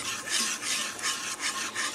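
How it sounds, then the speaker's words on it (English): Whisk rasping steadily against a pot as milk and Nutella chocolate are stirred together over medium heat, a soft rhythmic scraping with regular strokes about every quarter second, alone and close. "you want to start whipping with a whisk. You just want to start mixing all the milk and chocolate together"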